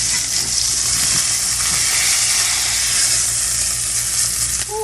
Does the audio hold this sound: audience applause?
no